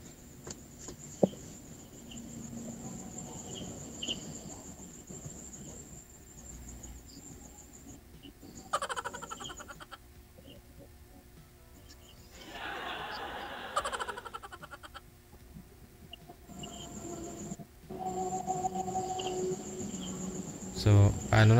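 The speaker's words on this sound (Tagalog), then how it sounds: "Kuliglig na lang yung narinig ko." Crickets chirp in a steady high trill that runs through the whole stretch, faint and continuous beneath intermittent talk and light laughter.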